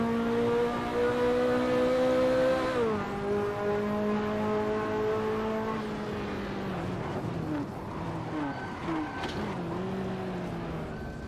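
A 1980s Ferrari engine roars in a racing game at the Goodwood Festival of Speed, a loud steady tonal drone that drops in pitch with gear changes and then wavers and revs up and down under faint talk.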